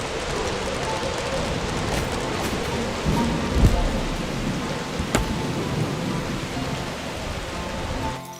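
Steady rain pours throughout a storm in the video game Dungeons 4, with low rumbles of thunder and a sharper crack near the middle, dense and fairly loud.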